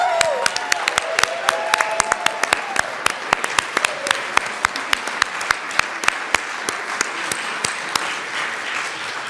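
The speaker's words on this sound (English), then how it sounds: "So I'd like you to all rise and give them a huge round of applause." Standing applause in the Colorado House legislative chamber, a dense sustained round of clapping with sharp individual claps standing out close by, running for the whole stretch with a brief voice at the start.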